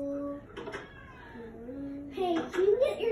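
A cat meows several times, in drawn-out, wavering calls that rise and fall, fairly close and clear, with a brief break between them.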